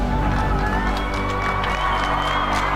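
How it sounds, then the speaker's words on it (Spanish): A crowd applauds steadily with cheering mixed in, a dense, continuous wash of clapping that stays loud throughout. "Ese fuerte aplauso para Álvaro Morte"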